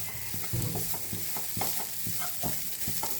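Mashed potato is worked together with salt in a pan, producing repeated soft scraping, squishing stirring strokes over a sizzling background, close and steady with no talking.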